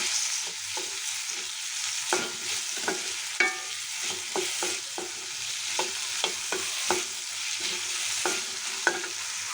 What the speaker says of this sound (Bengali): তেলের মধ্যে আলুটা ভেজে নিব।